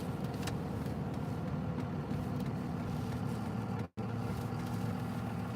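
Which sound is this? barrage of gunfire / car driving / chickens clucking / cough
car driving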